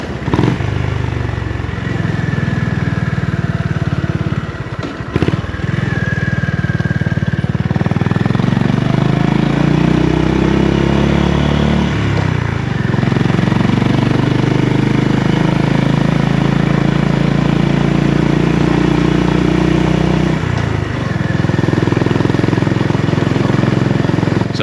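A Honda GB350 motorcycle ridden along a twisty road, its single-cylinder engine humming loud and close, rising and falling with throttle changes through the bends and dipping briefly around the five-second mark.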